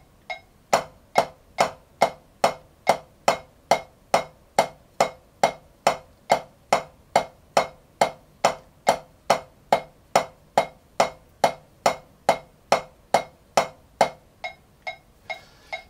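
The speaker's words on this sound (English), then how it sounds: "So every time I hear a click, I should be trying to match that with my sticks." Drumsticks strike in time with a metronome click during a Stick Control rudiment practice routine, making a long, steady train of sharp, evenly spaced taps at about two per second, close and alone with no talking.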